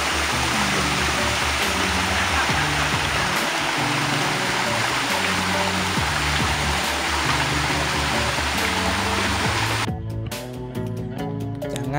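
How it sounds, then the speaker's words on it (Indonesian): A mountain waterfall near shelter 3 on Mount Kerinci, a dense continuous rushing roar of falling water, loud and steady, with a few faint knocks and handling bumps toward the end. "Ini air terjun tempat kita mengambil air pada shelter 3"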